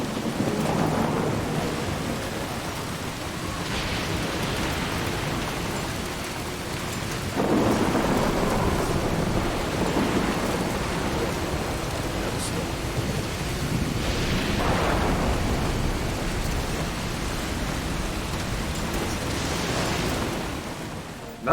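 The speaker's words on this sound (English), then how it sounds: "This looks like one of those chiral storms." A chiral storm in the video game Death Stranding, with steady heavy rain hissing throughout and several deep rolling thunder rumbles swelling and fading, continuous and fairly loud.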